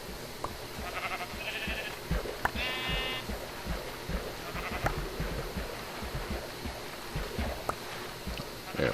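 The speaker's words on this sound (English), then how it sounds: "we find some sheep. Let's go on a shearing expedition." Sheep bleat in a Minecraft-style block video game, several short wavering calls scattered over a steady background hiss with faint hoof-like clicks.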